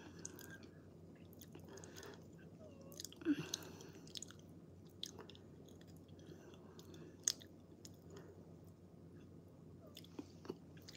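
Close, quiet chewing of food, including egg, during a live eating and chat stream, soft wet mastication with occasional crunchy bites and small clicks in an irregular rhythm.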